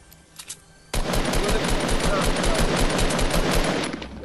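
Sustained automatic gunfire from a Fortnite match bursts in after a quiet second and keeps hammering in dense, rapid volleys, loud and close, with faint voices mixed under it.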